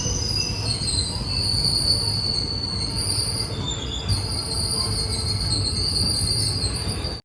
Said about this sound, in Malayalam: അഹമ്മദ് നഗർ റെയിൽവേ സ്റ്റേഷനിലേക്ക് ഇതാ നമ്മുടെ ട്രെയിൻ എത്തിയിരിക്കുകയാണ്